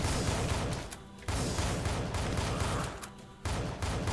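Revolver fire in the game Tesla vs Lovecraft, a dense rapid barrage of loud shots with two brief pauses, close and filling the scene, with no talking.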